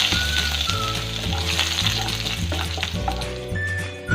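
Chopped garlic frying in oil in a kadai, a loud, steady sizzle crackling throughout with a low repeating hum underneath, close up and without any talk.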